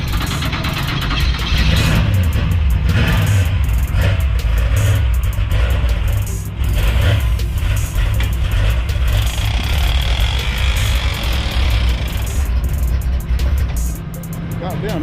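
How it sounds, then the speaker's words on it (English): A candy red donk car cranks and revs as it comes off a tow truck, its engine roaring loud and steady throughout, with muffled voices in the background. "Trying to crank that thing up to keep that thing, get that thing off the tow truck"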